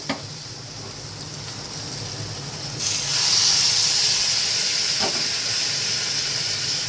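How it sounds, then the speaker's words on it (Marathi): A quiet background hiss suddenly swells into a loud, sustained rush of steam and sizzling as hot water is poured into a hot pan. "आता यामध्ये गरम पाणी टाकायचं."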